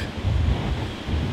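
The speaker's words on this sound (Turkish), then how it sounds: "İnanılmaz bir şelale sesinde uyandık." A waterfall heard from a tent campsite in the morning makes a dense, steady low roar and rumble with no other distinct sounds.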